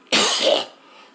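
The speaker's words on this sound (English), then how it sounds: "Oh, I got a nasty cough." A person with a nasty cough lets out a single harsh, close cough lasting about half a second, followed by a faint hiss of room noise.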